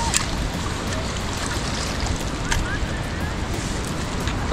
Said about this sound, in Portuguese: Essas ondas que batem assim é um perigo